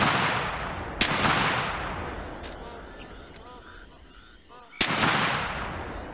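A 12 gauge shotgun fires two loud, sharp blasts at a bird flock in theHunter Classic, roughly four seconds apart, each with a long rolling echo that fades between them.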